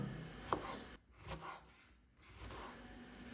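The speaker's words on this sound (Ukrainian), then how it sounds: "Далі я дрібно нарізаю дві середніх цибулини." A knife taps and scrapes against a cutting board in a few quiet, uneven chops while finely dicing onions, recorded close and faint.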